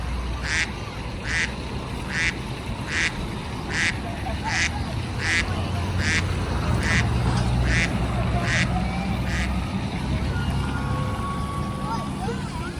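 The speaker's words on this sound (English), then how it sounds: "Look at the ducks." Ducks quack in a small park in Knoxville, a steady run of about a dozen evenly spaced quacks at close to moderate range, over outdoor background noise with some voices and distant traffic.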